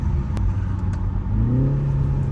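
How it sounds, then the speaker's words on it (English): A BMW engine downshifts into second gear while driving, a loud low rumble with a rising rev as the gear drops, the engine note climbing and settling under steady road noise. "There's a downshift, second gear."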